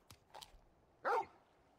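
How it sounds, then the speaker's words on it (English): The large wolf-like dog companion from the video game Final Fantasy XVI gives one short, sharp bark, preceded by a couple of faint yips. The sound is quiet and isolated, with no talking. "You're just a big puppy, aren't you?"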